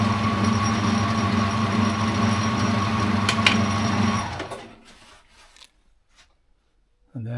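A die cutting an 8BA thread onto a Harley-Davidson brake lever gives a steady mechanical whirring for about four seconds, then stops into near silence before a loud burst returns at the end.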